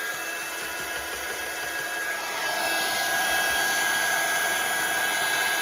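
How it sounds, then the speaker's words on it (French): A heat gun blows hot air with a steady, loud whooshing hiss that grows stronger partway through as it is used to dry a craft background, continuous and close with no one speaking. "après on va utiliser donc le heat gun"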